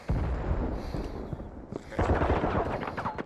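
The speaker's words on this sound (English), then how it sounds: "They're trying to shoot me here." Video game gunfire crackles through the whole stretch, bursts of rapid shots at moderate volume, growing denser and louder toward the end, with no talk over it.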